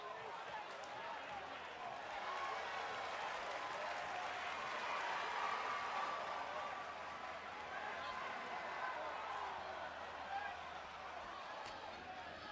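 Wrestling crowd at a COEW show cheering and applauding steadily as Ospreay makes his way into the ring, a dense roar of voices and clapping that swells in the middle and holds loud throughout.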